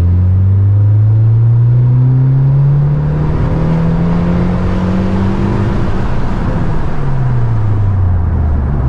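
A 9th-generation Honda Civic Si engine pulls at full throttle from about 2000 RPM, a loud, close rising drone that climbs steadily in pitch and holds strong without any voices over it.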